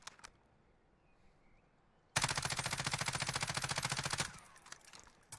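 Ram 7 assault rifle from Warzone fires a loud sustained burst of rapid automatic gunfire lasting about two seconds, preceded by a couple of faint isolated clicks and followed by a quieter fading tail.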